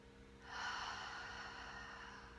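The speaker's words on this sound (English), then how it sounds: "And then exhaling through the mouth." One slow, soft exhale through the mouth during a guided breathing exercise, a faint breathy rush that swells and then trails off steadily, alone in a quiet room.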